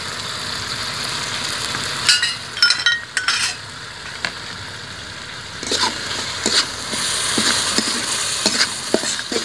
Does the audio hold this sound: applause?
no